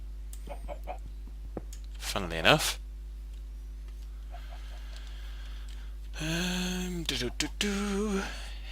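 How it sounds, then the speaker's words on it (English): Blocky Minecraft chickens cluck on a farm in the FTB Magic Farm modpack, short clucking calls popping up near the player between a man's spoken remarks. "Any eggs today, chickens?"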